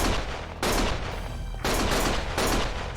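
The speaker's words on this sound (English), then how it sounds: "Stop shooting!" Sustained automatic gunfire from a video game firefight in Lost Judgment, with dense overlapping bursts that surge in waves and briefly thin out between volleys, loud and continuous throughout.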